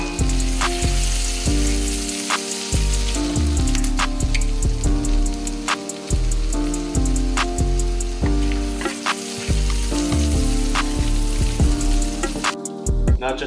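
Garlic and chilies fry in a pan for a Punjabi tadka, giving a steady crackling sizzle with irregular pops and spits throughout, close and fairly loud.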